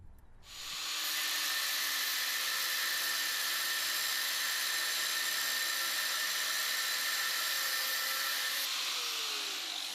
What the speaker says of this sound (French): Je vais le desserrer un peu, puis le tronçonner à la meule.